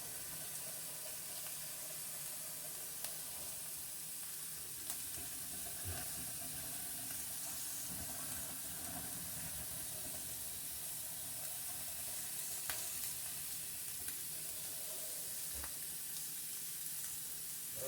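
Sausage sizzles steadily in a frying pan, a dense continuous crackle and hiss with scattered pops throughout, fairly quiet, with no talking.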